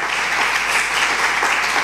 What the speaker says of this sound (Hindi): खुदा के जलाल के लिए तालियां बजाएं।